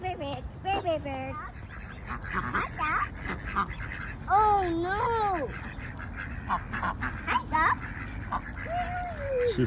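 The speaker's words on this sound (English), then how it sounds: "She found the ducks." Ducks at a park quack in several short, nasal bursts, loudest in a run near the middle, with people talking and a voice nearby.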